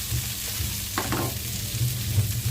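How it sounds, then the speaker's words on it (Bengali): Medium whole potatoes fry with cauliflower pieces in hot oil, giving a steady close sizzle with a short burst of stirring in the pan. "এবার আমি মাঝারি সাইজে গোটা আলু নিয়ে ভাজতে দিয়ে দিচ্ছি ফুলকপির সাথে"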